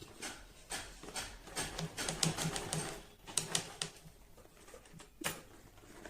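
A sewing machine stitches an insulated lunch bag in quick rattling bursts, short runs of needle clatter separated by brief pauses, close and fairly loud with no talking.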